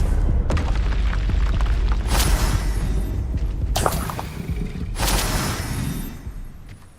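Spell explosions from the Confringo curse in the Hogwarts Legacy video game, several loud booming blasts a second or two apart over a dense, rumbling game soundscape.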